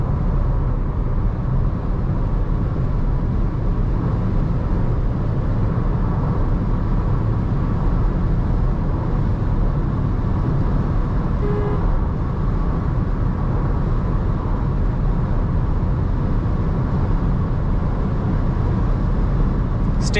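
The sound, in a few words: wind noise inside a Volkswagen Virtus driving at high speed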